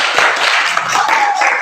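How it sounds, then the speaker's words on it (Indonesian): A classroom of students claps for a classmate, a brief burst of dense, steady clapping that fills the whole moment without talk. "tepuk tangan untuk temannya"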